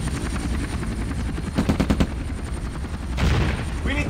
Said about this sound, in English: Get the helo down.